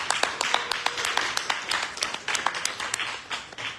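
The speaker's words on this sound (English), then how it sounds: "Give them a round of applause." Group applause in a meeting room, a short burst of moderate clapping from a small crowd that fades slightly toward the end.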